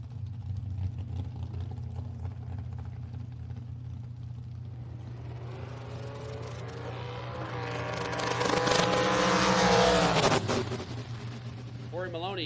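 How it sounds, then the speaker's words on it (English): A drag racing dragster with a hardtail chassis launches down the strip, its engine swelling into a loud, rising roar midway before cutting off. A constant low hum runs underneath throughout, and an announcer talks over it. "The dragster over here on the left side. Looks like a hardtail chassis."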